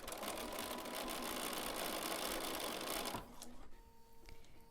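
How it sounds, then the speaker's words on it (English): A sewing machine stitches fabric in a fast, steady mechanical whir close by, then slows and drops quieter near the end. "and stitch right down the side."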